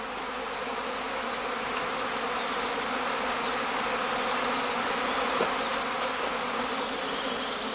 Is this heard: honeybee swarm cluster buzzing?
yes